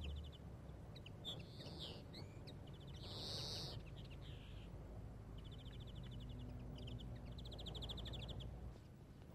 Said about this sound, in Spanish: El último tirón pone en alerta a un nutrido grupo de pájaros que emprenden la huida.